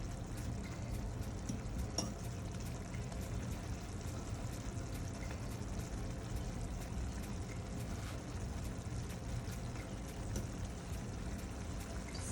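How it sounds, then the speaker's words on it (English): Jamaican beef patty filling simmers in a pot, giving a steady, continuous low bubbling and gentle sizzle with occasional faint clicks, with no talking. "And left that to go and simmer."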